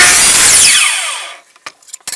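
A Porter-Cable 14-inch bandsaw cutting through wood, a loud close whine of the blade in the cut that winds down as the motor slows, followed by a few faint knocks.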